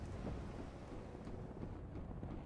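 Steady rain in the video game Arcane Adventures patters and hisses at a moderate level, with soft low rumbling underneath and no voices.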